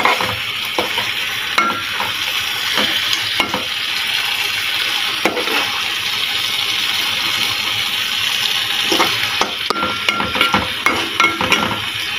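Fish fries in a pan with a constant close sizzle, broken by scraping stirs and clinks of a utensil against the pan, with no voices.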